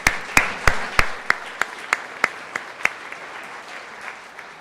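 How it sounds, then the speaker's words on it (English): A crowd at a talk event breaks into applause, then it fades. What carries is a clear run of single, regularly spaced claps, loud and close at first and slowly softening. "So I want to give them all a round of applause."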